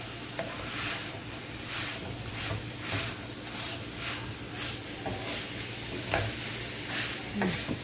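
Fried tofu stir-fried in sweet soy sauce in a pan, a continuous sizzle with regular scraping strokes of a spatula every half second or so, close and alone.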